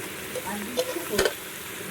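Goat tripe fries with onion and turmeric, giving a low, steady sizzle. A few stirring scrapes stand out, the loudest one near the middle.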